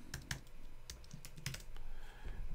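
Password typed on a computer keyboard during software installation on a Mac: a quick run of crisp, close key clicks in irregular bursts over faint room noise, with no talking.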